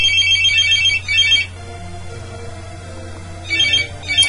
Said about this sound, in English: And there's the phone again.